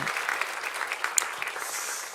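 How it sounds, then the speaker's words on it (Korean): A church congregation at a Sunday afternoon service breaks into brief, steady applause for its teachers, a dense patter of many hands clapping at once. "우리 다시 한번 축하, 감사, 위로, 격려의 박수"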